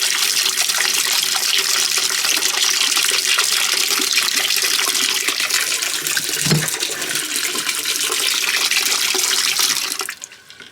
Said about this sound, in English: I took more like 6 or 7 minutes to fill that tank